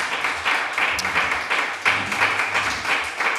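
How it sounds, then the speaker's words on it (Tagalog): A church congregation gives a clap offering, sustained applause washing steadily through the room at moderate distance, without a clear break. "Let's give a clap offering to the Lord"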